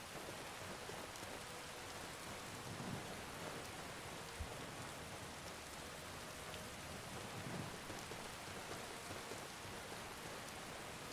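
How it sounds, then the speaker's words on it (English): Steady rainfall in Skyrim rendered with community shaders: a faint, even hiss of falling rain with soft scattered drops and no voices. "you can kind of see how rain looks here"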